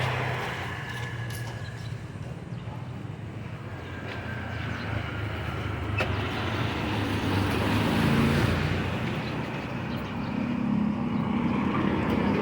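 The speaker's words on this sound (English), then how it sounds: "The main street here is very narrow, so you'll see a lot more motorbikes and e-bikes than you will cars." Steady street traffic rumbles along a narrow main street in Calamba, Palo Alto, Philippines, where motorbikes and e-bikes outnumber cars, a dense wash of passing engines swelling slightly louder midway through.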